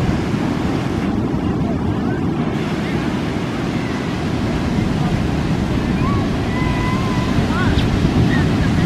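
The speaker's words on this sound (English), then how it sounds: "Waves are getting bigger." Ocean surf rolls and washes continuously with heavy wind buffeting the microphone, a loud, steady roar of waves close by.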